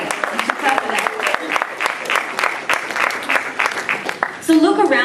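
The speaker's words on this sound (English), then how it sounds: "You should clap for that." Audience applause at a city presentation, a steady patter of many hands clapping through the hall before a voice starts speaking near the end.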